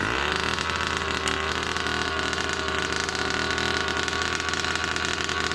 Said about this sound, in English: So I'm going to show you what the engine does